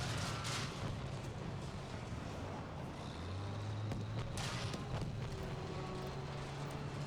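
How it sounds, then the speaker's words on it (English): Rockets fire and explode in Battlefield V, a continuous dense rumble of distant blasts and engine drone with a few heavier booms, loud and sustained with no talk. "Here comes the rockets."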